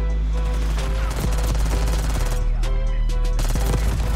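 Automatic gunfire in the video game Black Ops 6, a dense, loud rattle of rapid shots over a steady low rumble, with volleys continuing throughout.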